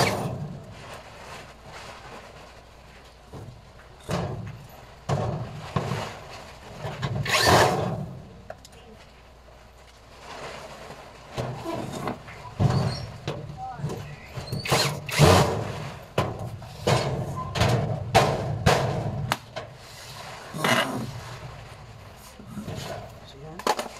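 Screws are driven into the top of a vertical filing cabinet during assembly, with repeated short bursts of a power driver whirring and ratcheting, interspersed with clicks and rattles and some talking.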